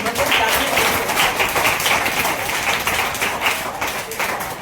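A crowd of schoolchildren claps together at a school event in a steady, dense burst of welcoming applause, continuous and fairly loud throughout.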